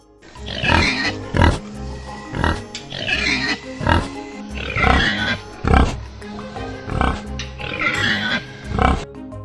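Pigs on a farm grunt and squeal close by, a series of loud rhythmic grunts repeating roughly every second or so, with no talking.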